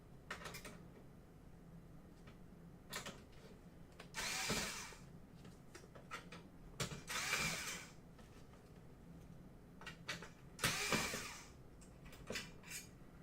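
Screws being loosened on a Sega CD Model 2 during a board-removal repair, with a run of small metallic clicks and scrapes, a few louder whirring bursts like a powered screwdriver, recorded close with no talking.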